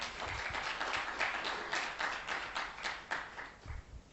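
Scattered clapping from a modest crowd, steady for a few seconds with uneven bursts, fairly quiet and a little distant.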